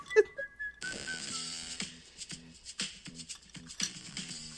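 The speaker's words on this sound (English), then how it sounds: "The whistling's a little much, but I like the groove." A song plays with a melodic whistled line over a rhythmic groove, punctuated by soft percussive hits.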